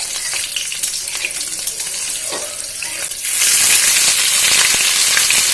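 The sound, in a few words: tempering spices and chillies frying in oil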